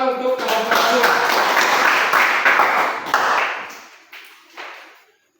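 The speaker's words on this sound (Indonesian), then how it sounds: "kita tepuk tangan untuk kelompok 2" A classroom group claps together for another group of students, a dense burst of hand claps that swells and then trails off into a few scattered final claps.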